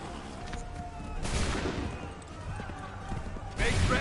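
Musket volleys fire in the Assassin's Creed 3 video game, with two heavy bursts of gunfire about two seconds apart over a busy battlefield din, the second louder and closer.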